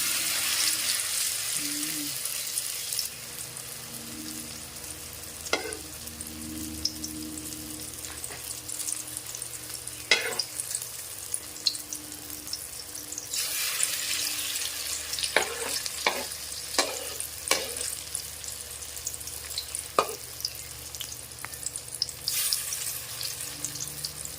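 Breadcrumb-coated eggplant for tortang talong sizzles steadily in a frying pan, a continuous hiss broken by occasional sharp clinks and scrapes of a utensil against the pan.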